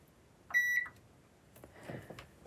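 Multimeter continuity beep while probing the XLR jack pins of a Yorkville C12 lighting controller, a single short steady electronic tone followed by faint handling noise.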